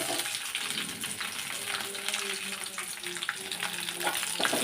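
Green chillies hiss and crackle in hot oil with curry leaves, a dense, close sizzle with bursts of spattering and occasional stirring scrapes, no speech.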